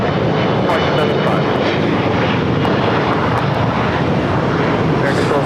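An Airbus A350-900 airliner on approach to LAX rumbles with a loud, continuous, broad engine roar close by.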